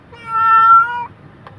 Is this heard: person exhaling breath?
no